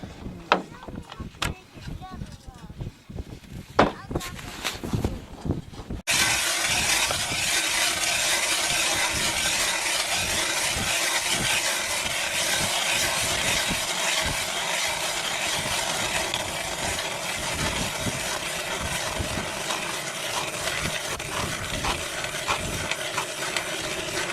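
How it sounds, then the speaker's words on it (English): A roughly ten-year-old gas ice auger engine starts and runs with a loud, steady buzzing drone outdoors on the ice, preceded by a few seconds of handling noise. "So here's my ice auger."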